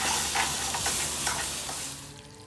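Scrambled eggs fry in a pan with a loud, dense, close crackling sizzle that holds steady, then eases and fades toward the end.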